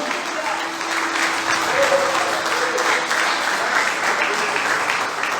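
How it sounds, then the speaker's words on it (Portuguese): Loud, steady applause from a church congregation fills the space for several seconds, a dense wash of clapping with a faint sustained tone and a few voices mixed in underneath. "aplauda o Senhor bem forte"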